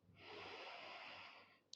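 A long, steady deep inhalation during a morning yoga session, close and clear for over a second and a half, ending with a brief soft click.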